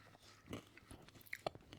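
Close, quiet chewing on crunchy day-old bread crust, with a few sharp crunches and bites scattered among softer mouth sounds.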